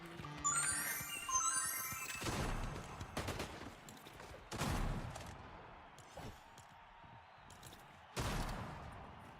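Assault rifle fire in Fortnite ranked play rings out as several separate bursts of gunfire spaced a couple of seconds apart, fairly quiet in the mix, with game tones at the start.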